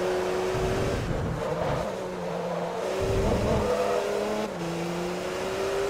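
A diesel race car in Forza Motorsport 3 revving and shifting, its engine note climbing through gears in a steady, loud drone with brief dips between shifts, heard alone.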